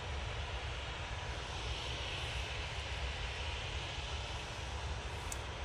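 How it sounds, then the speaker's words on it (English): A KLM Boeing 737-800 heading back to Amsterdam from Manchester Airport, its twin jet engines making a continuous, fairly distant rumbling roar with a hiss on top, steady throughout and free of talk. "So KLM 737-800 returning back to Amsterdam Schiphol now in this beautiful light."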